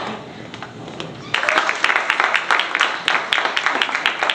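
An audience at a breast cancer event breaks into applause partway through, with quiet room sound before it and then lively, dense clapping to the end.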